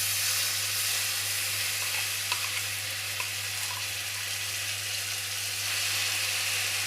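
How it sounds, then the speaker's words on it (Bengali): Spice paste for paneer posto hitting hot oil in a wok, a steady, even hiss of sizzling that runs unbroken throughout over a low constant hum. "এরপরে আমরা কড়াইতে এই পেস্ট করা মশলাটাকে দিয়ে দেব।"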